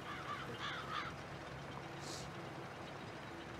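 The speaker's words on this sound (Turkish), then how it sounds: "Avulun leş kargaları." Crows caw a few times at a distance in the Farming Simulator 22 video game, short harsh calls over a low steady rumble of engine or vehicle noise.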